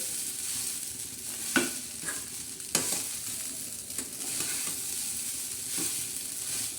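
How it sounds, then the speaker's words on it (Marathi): Sabudana khichdi with crushed peanuts and green chillies sizzles steadily in a pan while a spoon stirs it, with occasional scraping clicks against the metal rising above the constant frying hiss. "असा मस्तपैकी आता आपण हलवलेला आहे शाबुदाना"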